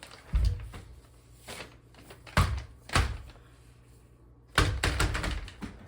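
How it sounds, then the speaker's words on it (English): A door is swung shut by hand, giving a series of hollow wooden thumps and knocks spaced a second or so apart, fairly close, ending in a heavier closing thud with brief rattling, with no talking. "it's cold out there, so I'm going to close the door"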